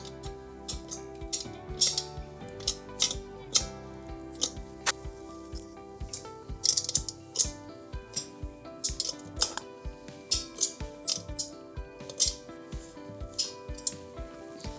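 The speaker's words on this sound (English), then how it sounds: "to tighten this down, you're gonna need a 7/16 wrench" A 7/16 wrench tightens a fitting on a Val-Air compressor with a close run of irregular metallic clicks and small clinks, repeated throughout.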